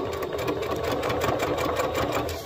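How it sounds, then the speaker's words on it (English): Close up, a sewing machine stitches a seam on a daisy top, its steady rapid whirr running evenly with no pause. "I'm going to backstitch when I start."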